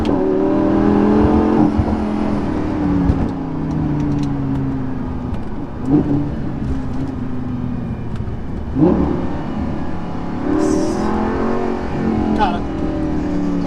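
A Lamborghini Gallardo LP550-2 engine drives at night, droning steadily with repeated rising revs and brief throttle surges, heard close from inside while someone talks over it throughout.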